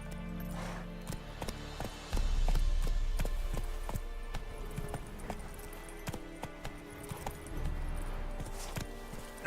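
Roach, a horse in The Witcher 3, gallops with a steady run of hoofbeats clopping close and clear over a low rumbling game soundscape, the pace holding throughout with faint music or ambience beneath.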